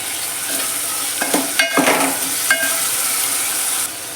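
Chopped tomatoes sauté in a spiced oil tempering over a steady sizzle, while a spatula scrapes and clanks against the pan in several distinct strokes through the middle.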